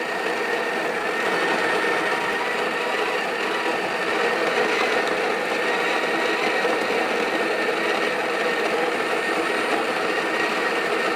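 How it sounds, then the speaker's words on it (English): Breville Barista Express espresso machine grinds coffee into a double basket with a loud, steady, buzzing whir that runs without a break and has no talk over it. "So we're just gonna hit here. It's gonna start to grind."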